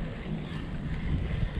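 Strong wind buffets a small fishing boat at sea, making a continuous low, rumbling roar of gusts against the microphone with no talk.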